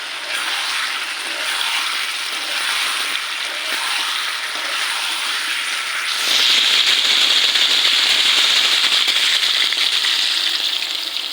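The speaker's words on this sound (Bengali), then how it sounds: "তো আমি ঝোলের পানি দিয়ে দিব" Water poured into a pan of simmering potato and egg curry to make gravy, a steady hissing, bubbling wash that grows louder and sharper partway through as the liquid hits the hot pan.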